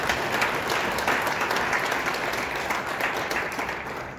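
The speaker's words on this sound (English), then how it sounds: "Let's give her a round of applause." Steady audience applause at a news event, dense clapping sustained at an even, moderately loud level for about four seconds with no voices on top.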